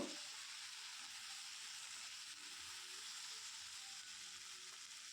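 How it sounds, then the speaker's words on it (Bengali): Bata fish curry with onion stalks sizzles steadily in a pan as cumin-coriander powder is stirred in, an even continuous frying hiss with no talking. "তো আমি এখানে চা চামচে দু চামচ মতো জিরে ধনে গুঁড়ো অ্যাড করছি আবার একবার ভালো করে নেড়ে জেড়ে কষিয়ে নেব"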